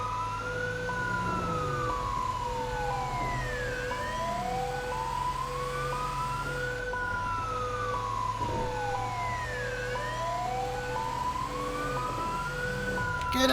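A fire engine siren sounds in the NSW RFS Firefighter Patrol video game: a loud wail rises and falls in slow, regular cycles over steady horn-like tones and a low engine rumble, with no talking.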